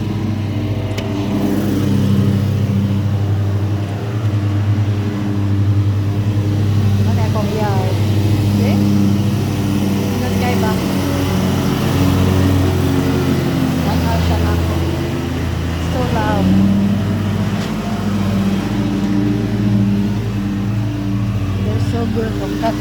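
A ride-on lawnmower cutting grass, its engine droning steadily and close throughout with slight rises and dips, while people talk over it.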